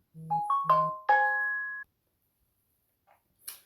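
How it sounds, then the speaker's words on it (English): A phone sounds a short chime alert of four quick rising tones ending in a sustained ring, crisp and close against silence, followed by two faint soft ticks. "I had my phone on Do Not Disturb, and I can still got an alert."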